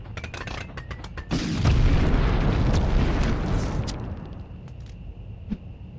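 Rocket launcher explosions from the 1999 Medal of Honor game: after a few sharp clicks and shots, a loud booming blast erupts and rumbles for several seconds before fading, followed by scattered lighter pops and a brief tone.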